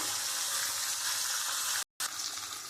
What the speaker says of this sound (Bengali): এবার আমি মাছের মাথাগুলো দিয়ে দেবো আমি মাথাগুলো আমি লাল লাল করে একটু আমি ভেজে তুলে নেব